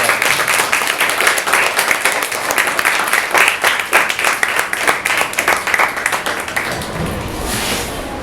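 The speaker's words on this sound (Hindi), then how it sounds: "तालियां तो बजाइए" Audience clapping steadily after a Quran recitation at a madrasa event, a dense, sustained round of applause that thins out toward the end.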